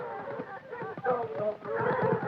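Horses in a 1934 bear-roping scene neigh and whinny with some clip-clop of hooves, short and fairly close, mixed with a voice.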